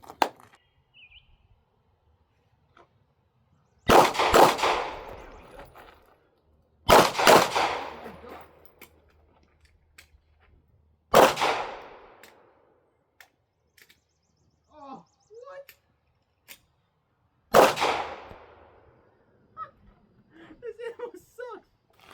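Five loud, sharp pistol shots from a Ruger RXM during practice, spaced several seconds apart with a quiet stretch between each, and faint speech and small noises in the gaps.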